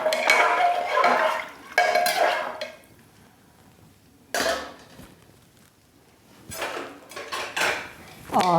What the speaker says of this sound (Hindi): और अब हम इसको चला देंगे ताकि मसाले इसमें अच्छे से मिल जाएं इस तरह से